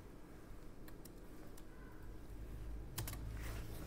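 Steady typing on a computer keyboard during typing practice, a run of quick clicks over a constant background hum with no talking.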